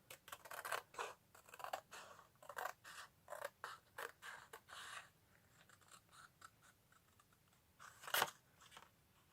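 Scissors cutting through card for a concertina stepper card, a quick series of close, crisp snips in an uneven rhythm, then a quieter stretch with one sharp louder snip near the end.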